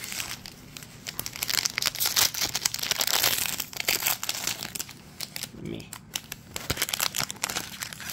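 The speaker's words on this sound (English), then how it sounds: "Opening these packs with one hand is hard." A crinkly foil card pack wrapper for a My Hero Academia collectible card game is crumpled and torn open in several rustling bursts, close by, with a voice speaking briefly.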